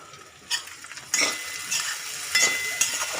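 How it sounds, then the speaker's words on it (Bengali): A spoon stirs cumin, coriander powder and garam masala into carrot, green pea and potato sabji in a pan, giving distinct scraping sweeps about every half second over a soft sizzle, close and clear. "এবার একটু নাড়াচাড়া করব।"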